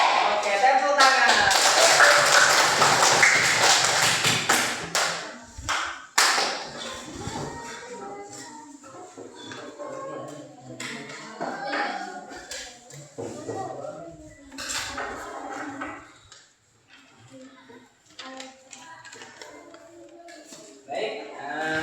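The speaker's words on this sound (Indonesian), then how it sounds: "Oke, tepuk tangan." A class of children claps their hands together in a classroom in a loud burst for several seconds, followed by scattered taps and shuffling while a teacher talks.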